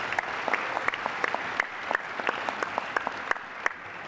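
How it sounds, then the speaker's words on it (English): An audience at a city State of the City address applauds Public Works, a steady wash of many hands clapping at moderate loudness with no voices over it. "I think they deserve a round of applause for keeping our city as nice as it is."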